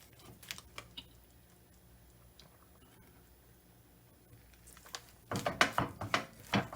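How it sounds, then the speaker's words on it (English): A knife cuts through Jamaican grater cake, a coconut dessert, producing soft scattered taps followed by a louder cluster of crisp scraping cuts close by. "So just take your knife and just cut it all the way over."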